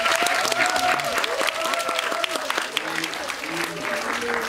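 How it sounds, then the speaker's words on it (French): An indoor audience applauds a visiting delegation from Warsaw, a dense, sustained burst of clapping that sounds close. A voice speaks over it with a sustained, sung or called tone. "donc je vous demande aussi de les applaudir."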